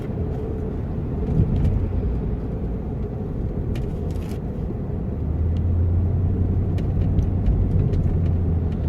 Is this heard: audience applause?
no